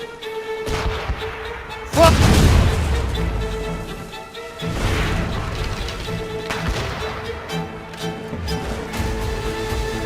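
Ship cannons boom in a naval battle in Assassin's Creed Rogue, with heavy blasts near two and five seconds, further firing and a rumbling, crashing low end running through the clip.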